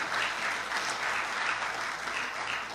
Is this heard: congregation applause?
yes